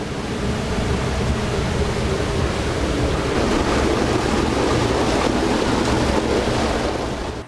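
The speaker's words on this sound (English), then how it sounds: "The dirty water wells up, flows into the outlet trough," Dirty backwash water welling up out of a filter tank at a city water treatment plant and pouring into an outlet trough, a dense, steady rushing wash that holds constant throughout.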